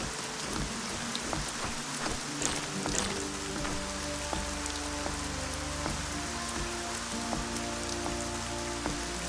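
Steady rain patters continuously in the video game Arcania: Gothic 4, a dense, even hiss of drops with faint tonal background music underneath.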